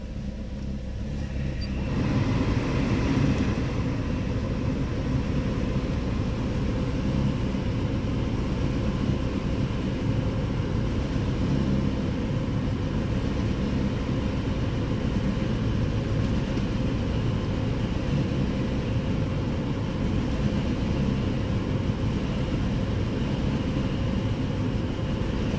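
A Mazda 3 engine idles roughly with the air conditioning running, a steady low mechanical drone with slight unevenness throughout, close and continuous with no talk.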